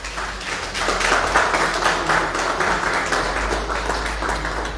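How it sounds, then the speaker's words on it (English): Audience clapping at an awards ceremony as an award is presented, a steady, moderately loud patter of many hands that holds evenly throughout, with no speech over it. "Round of applause, ladies and gentlemen."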